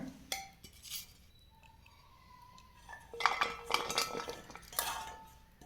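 Grated bitter gourd is tipped into a steel bowl in a home kitchen, giving a few close metallic clinks and scrapes in separate bursts, with quiet gaps between them and no talking.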